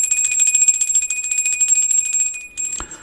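A small bell rung for a cleansing ritual gives a sustained bright ringing tone that shimmers steadily, then fades with a brief rustle near the end, heard alone and close.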